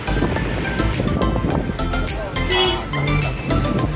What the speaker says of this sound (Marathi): समुद्रावरती तरंगणारा बोट